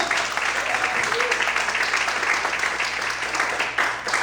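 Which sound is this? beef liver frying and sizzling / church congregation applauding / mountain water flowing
church congregation applauding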